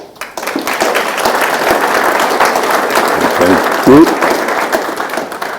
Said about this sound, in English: Ladies and gentlemen, a round of applause for the Office of the Military Ombud team.